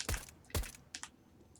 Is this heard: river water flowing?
no